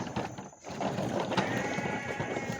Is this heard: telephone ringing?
no